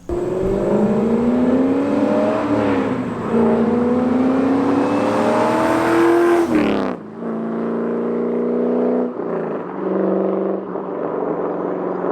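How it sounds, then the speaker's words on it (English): A C5 Corvette with long tube headers, an X-pipe and no mufflers revs loudly and holds high, then drops off sharply to a rough, throaty idle with a couple of short blips. "LG Motorsports and Billy Boat, best sounding exhaust."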